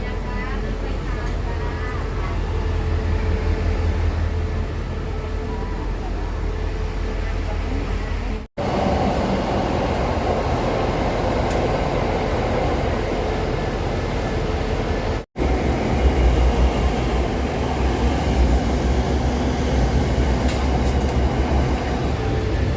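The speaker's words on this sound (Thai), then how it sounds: "รถไฟ ออกจากสถานีกรุงเทพอภิวัตแล้วครับผม" A passenger train leaving Bangkok's Krung Thep Aphiwat station rumbles steadily along the rails, a continuous loud rolling roar with two brief dropouts.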